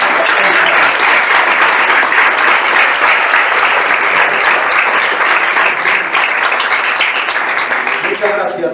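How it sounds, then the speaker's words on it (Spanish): A large audience at a public tribute event breaks into loud, sustained applause, a dense wash of clapping that continues at full strength before easing slightly at the end. "pidiendo un fuerte aplauso"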